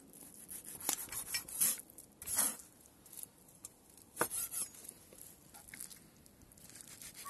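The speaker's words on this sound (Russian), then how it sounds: "теперь нарезаем его вот такой соломкой" A knife slices horse meat into thin strips on a board outdoors, producing quiet, irregular cuts and scraping taps with a few sharper knocks.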